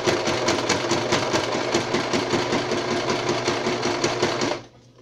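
A sewing machine running a straight stitch along the edge of a fabric bracelet, giving a fast, steady mechanical whir with rapid needle rhythm, loud and close, that stops abruptly near the end.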